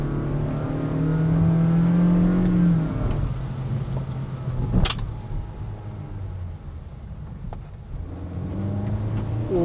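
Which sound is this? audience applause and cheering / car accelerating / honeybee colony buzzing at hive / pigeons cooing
car accelerating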